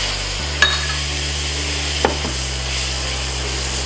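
Tomato added to hot frying masala for a Kerala crab roast, a steady close sizzle in the pan with two sharp spoon scrapes or taps against the vessel.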